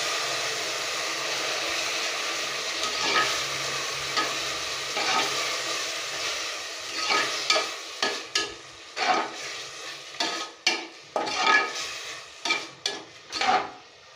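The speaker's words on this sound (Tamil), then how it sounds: "இப்போ இந்த ஸ்டேஜில் நம்ம தக்காளியை சேர்த்துப்போம்." Tomatoes sizzling in a pan for tomato rice, starting as a steady frying hiss that turns into a run of rhythmic stirring and scraping strokes, close and fairly loud, with no talking.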